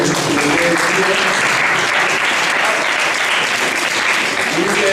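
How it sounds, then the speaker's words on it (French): An audience at a trade show applauds the organizing group's president, steady dense clapping throughout, with some voices mixed in. "Sur ce, il faut l'applaudir."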